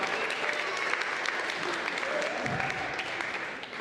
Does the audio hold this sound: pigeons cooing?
no